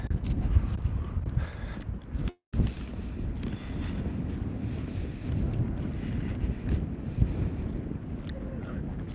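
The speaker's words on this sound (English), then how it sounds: "We've got about maybe 35 to 40 mile an hour wind here today, so it's pretty heavy." Strong outdoor wind of about 35 to 40 mph buffets the microphone in heavy, continuous rumbling gusts, with one brief dropout partway through and no voices.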